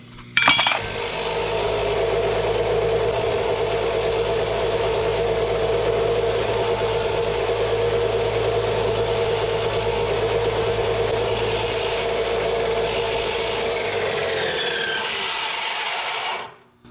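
Steady grinding and rasping as metal spacers cut from old pipe are made and deburred for a 1966 Chevy one-ton dually, running continuously for about sixteen seconds at close range with no talking.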